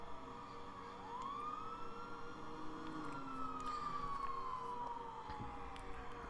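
Police siren in a driving video game chase, a long rising-then-falling wail holding steady over continuous engine and road rumble, fairly loud and unbroken throughout.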